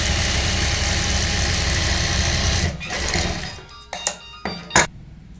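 A sewing machine runs steadily while stitching the leg hems of a Pakistani-style salwar, then stops, leaving a few sharp clicks and handling knocks.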